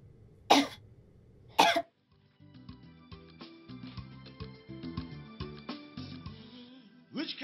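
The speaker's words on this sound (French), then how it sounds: "Pourquoi tu tousses?" A person gives two sharp, loud coughs close by, followed by a soft musical score and one more throat sound at the end, in a Nollywood drama scene.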